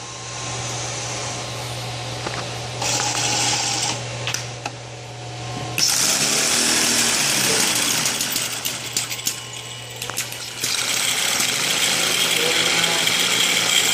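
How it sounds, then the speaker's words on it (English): Small engine on a benchtop hybrid engine-generator rig, set to 600 RPM, fires up with an electric motor compensating: a low hum gives way to loud rattling, clattering mechanical running that stays dense and continuous, with a voice talking intermittently. "The engine's trying to get up to its set point, and the motor is compensating, also in a sort of sinusoidal fashion."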